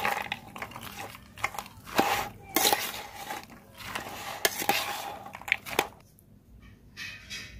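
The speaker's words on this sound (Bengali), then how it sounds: "সব উপকরণ একসাথে মিশিয়ে ভালো করে মেখে নেব।" Aloo kabli ingredients with tamarind water being mixed in a bowl, wet squishing and mashing punctuated by sharp clinks of a utensil against the bowl, then tapering to quiet.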